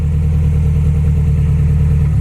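A Subaru STi engine with an AVCS fault idles roughly up close after an ECU reset, a steady low rumble with an uneven, lumpy pulse and no voices.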